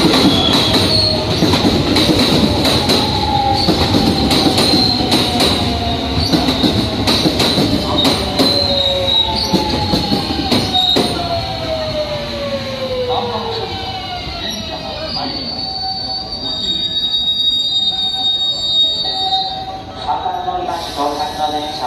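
A local train bound for Kyoto rolls into Kobe Station with steady rumbling and long, rising metallic wheel squeals as it slows, sustained throughout.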